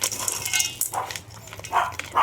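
A pet dog named Choco barks in short, sharp bursts at lunchtime at home, a few separate yaps at moderate distance, with faint clinks of dishes around them.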